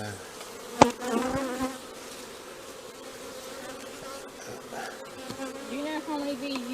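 Honeybees swarm around an open beehive, filling the air with a dense, steady buzz. Individual bees drone closer to the microphone now and then, and a sharp knock sounds near the start.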